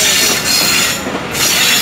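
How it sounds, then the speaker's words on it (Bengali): A train rumbles loudly past on the next track, heard from aboard another train in Bangladesh, with continuous rolling wheel noise and steel squeal close by. "ওই দিক থেকে আরেকটা ট্রেন যাচ্ছে"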